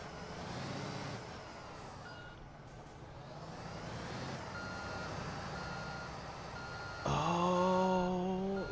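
Reversing beeps from a 6x4 dump truck in the Construction Simulator 2 video game, a steady repeated electronic tone sounding over continuous engine rumble, with a louder burst of machinery near the end.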